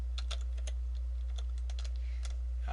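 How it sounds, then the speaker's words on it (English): An address is typed on a computer keyboard: a quick, irregular run of close, crisp key clicks with brief pauses, and no voices. "start typing an address"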